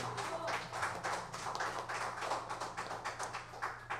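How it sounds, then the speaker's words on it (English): An audience applauds jazz musicians at an intergenerational jam session, with steady, fairly faint clapping running the whole time and no talk. "Please give them all another round of applause"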